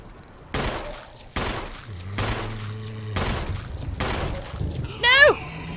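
Several heavy shots from a gun in the Resident Evil HD video game, about five loud blasts spaced roughly a second apart with ringing tails, followed by a brief high electronic sound.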